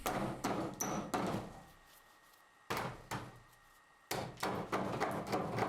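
Hammer blows knocking out saw-cut waste from a let-in notch in a pine board for tongue-and-groove installation: several sharp, close thunks in a quick cluster, a pause, then two more bursts of strikes.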